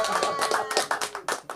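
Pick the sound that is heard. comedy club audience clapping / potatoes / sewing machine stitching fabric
comedy club audience clapping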